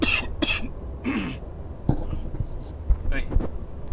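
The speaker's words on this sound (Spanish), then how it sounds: "Perdón, que me he entrado la tos." Someone coughs and clears their throat several times in close, rough bursts, with a few breathy whispered sounds between them, heard against a quiet background.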